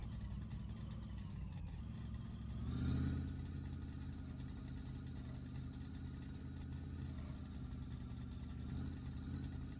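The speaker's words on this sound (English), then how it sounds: "And I think we're going to use the straight 6 in the truck." Straight-six engine in a hauler truck from a garage driving video game, idling steadily with a low, even rumble and one brief rev swelling then settling back, heard alone with no talking.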